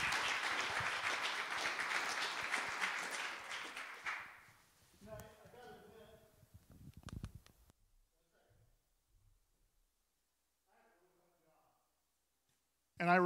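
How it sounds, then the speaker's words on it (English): Church audience applauds loudly for a guest at a sermon, a dense burst of clapping for about four seconds that quickly fades, followed by brief talk and quiet. "Give him a round of applause to Lance."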